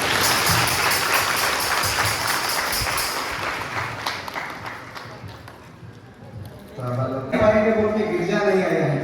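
Loud crowd clapping at a parish feast-day prize distribution, dense and sustained for several seconds, fading, then a fresh burst of applause near the end; no words spoken.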